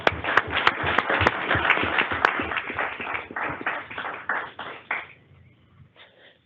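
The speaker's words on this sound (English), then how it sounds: "Let's give them a round of applause." A meeting audience at a state transportation board session claps for an honoree, a brisk patter of hands with sharp individual claps standing out, fading quickly after about five seconds into near silence.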